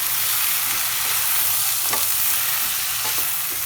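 Cooked chicken and carrot for Kerala chicken mappas hit a hot pan with a loud, steady sizzle and frying hiss, and faint stirring scrapes come through the noise.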